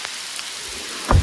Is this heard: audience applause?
no